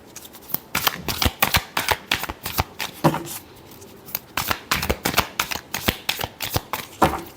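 Tarot cards being shuffled by hand, rapid riffling bursts in quick irregular rhythm, close and crisp, with a short pause midway before the riffles resume; no talking.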